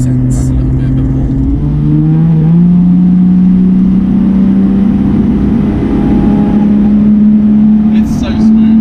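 A 300BHP Toyota Soarer engine pulls hard under acceleration, its loud, steady drone rising smoothly in pitch through the gear, heard from inside the car with a voice briefly underneath.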